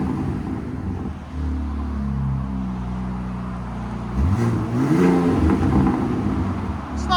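A 2025 Ram RHO with the 3.0L twin-turbo inline-six and a Magnaflow SPEQ cat-back exhaust revs up from idle, its note rising and falling twice, loud and close, with a deep resonant drone.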